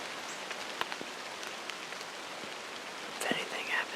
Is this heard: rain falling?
yes